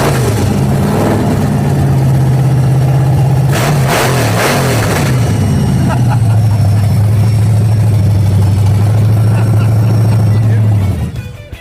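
A supercharged Impala engine with a blower running loud and close, holding a rough, steady idle broken by a few sharp revs midway before settling back, while people talk over it.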